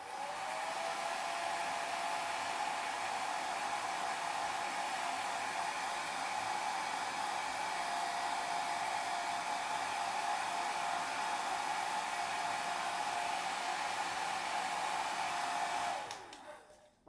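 A hair dryer quickly drying a craft project with lace, blowing as a loud, steady whooshing roar that holds unchanged for about sixteen seconds before cutting off abruptly.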